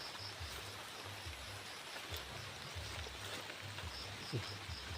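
Steady rain patters softly and evenly throughout, a quiet continuous hiss with occasional faint low rumbles underneath.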